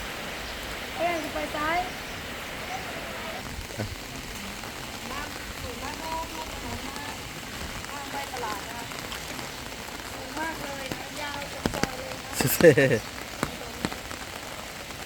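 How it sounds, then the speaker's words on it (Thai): Heavy rain falls steadily on a flooded street behind municipal offices, a constant wash of drumming drops, while someone speaks over it throughout and a few louder splashes come near the end. "วันนี้ฝนตกตลอดเลยนะคะ น้ำท่วมถนนเลยนะคะ"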